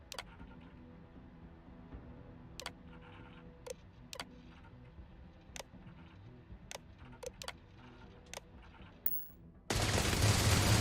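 Turrets fire in the space game Starfield as a series of sharp, separate shots spaced every second or so over a low hum, ending in a sudden loud burst of noise.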